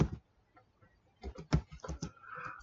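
Quiet computer keyboard typing code, a short burst of soft key taps after a pause, close and faint with no talk over it.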